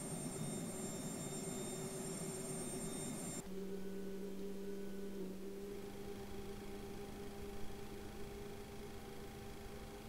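Simulated Boeing 737-300 jet engine spooling up in the X-Plane 11 flight simulator, a steady whine and broadband roar with tonal hums that shift partway through as the start sequence progresses, faint and continuous with no talk.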